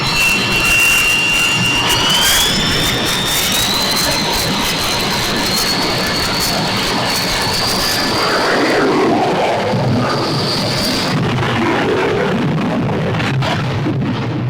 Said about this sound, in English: the jet engine noise is overpowering